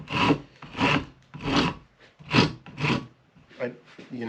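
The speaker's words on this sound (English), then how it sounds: "Sanding's kind of a pain, but I do." Rhythmic rasping strokes of sandpaper on a wooden axe handle, about seven back-and-forth passes at a steady pace, close and fairly loud.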